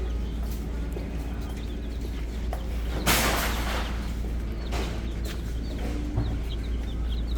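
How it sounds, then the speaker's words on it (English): Chickens cluck softly at a farm coop, scattered calls under a constant low rumble with one brief loud rustle. "Here are the chickens."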